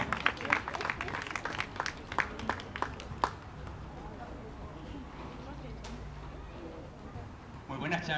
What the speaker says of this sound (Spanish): Y le damos otro aplauso porque ahora sí ya viene bien dispuesto.